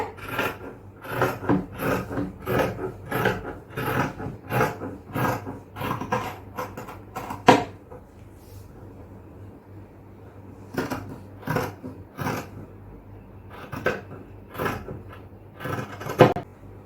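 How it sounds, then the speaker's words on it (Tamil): Tailoring scissors cut cloth for the body of a yoke nighty, making a rhythmic series of close, crisp snipping and rasping strokes, then a quiet pause before further bursts of cuts. "ஃபர்ஸ்ட் உடம்புக்கான துணியை கட் பண்ணலாம்."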